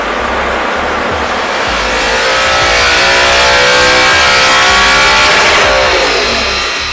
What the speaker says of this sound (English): our now modified R8 goes back onto the dyno